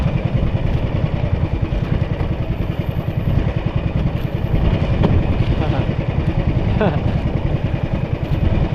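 A small fishing motorboat running through choppy waves on a windy sea, its engine droning steadily and loud with rough clatter as the bow slaps down on the swells; someone talks over the noise.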